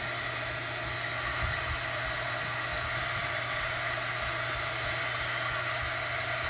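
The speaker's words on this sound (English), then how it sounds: "I'm just going to give it a couple more seconds with the heat gun just to make sure that my adhesive sticks" A heat gun blows hot air over adhesive on a vellum embossed birthday card, giving a steady, loud broadband roar that holds unbroken for several seconds.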